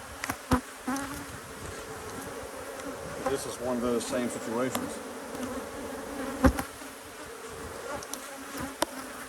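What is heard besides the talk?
honey bees buzzing around an open hive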